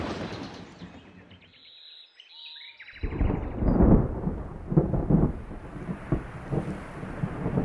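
Thunder and rain in a Vietnamese-dubbed Boonie Bears animated cartoon: quiet rumble at first, then a loud crack of thunder with heavy, steady rain and rolling rumbles continuing, with no talk.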